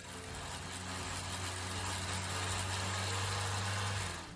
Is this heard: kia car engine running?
yes